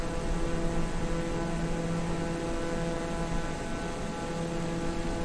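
Steady droning aircraft engine in Microsoft Flight Simulator, a constant tonal hum with a few layered pitches, unbroken and fairly loud throughout with no talking.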